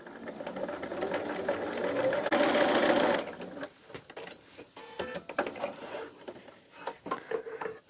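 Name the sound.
sewing machine stitching quilt block pieces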